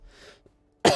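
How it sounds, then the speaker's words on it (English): A single sharp, loud cough bursts out near the end after faint quiet, close to the mic, during a let's-play session of The Outer Worlds. "I'm getting a bit of a cough tonight"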